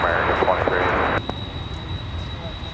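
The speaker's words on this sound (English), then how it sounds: "It's an MD-11, 24 years of age, delivered in May of 1998. Takeoff, American 23." An American Airlines MD-11, 24 years old and delivered in May 1998, taking off at Dallas-Fort Worth International Airport: a loud, broad roar over a steady high whine that drops away abruptly after about a second.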